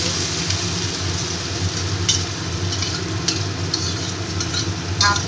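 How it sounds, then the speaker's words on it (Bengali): Onion paste frying in hot oil for a pointed gourd curry, a continuous dense sizzle with occasional louder spatters and stirring scrapes, close and steady with no voices. "তারপর আমি পেঁয়াজ বাটাটা দিয়ে দেবো। পেঁয়াজ বাটাটা একটু ভেজে নিয়ে"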